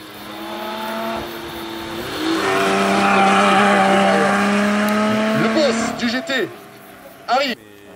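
A GT sports race car sits on the start line of the Mont-Dore hill climb, its engine holding a loud, steady hum that swells before short, sharp revving bursts near the end.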